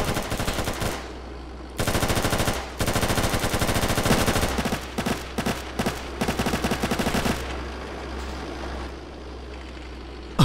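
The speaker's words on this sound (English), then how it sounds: "They're shooting." Automatic gunfire in Arma 3: sustained machine-gun bursts in several long strings with short pauses, loud and close, over a steady vehicle engine drone, with no talking.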